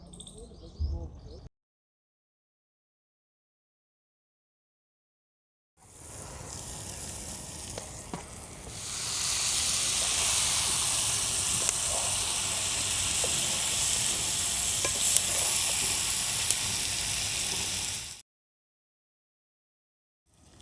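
Tomatoes go into a pan of frying potatoes for a Gujarati spinach-potato dish, setting off a loud, steady sizzle with stirring that lasts about twelve seconds between quiet gaps, with a short bit of talk at the start.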